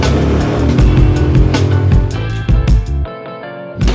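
A rented vehicle pulls away, a loud, close rumble of engine and road noise that swells and dips before cutting off sharply near the end.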